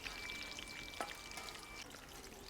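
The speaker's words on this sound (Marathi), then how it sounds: "त्या पण टाकून घेऊ म्हणजे मग मिरच्या पण तळून निघतील आपल्या" Chopped green chilies deep-fry in hot oil with vegetables. A faint, steady sizzle continues throughout, with one brief stirring clatter partway through.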